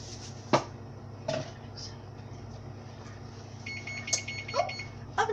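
A kitchen oven signals that it has finished preheating for a batch of brownies with a short run of faint, evenly spaced electronic beeps over quiet room noise and a few clinks.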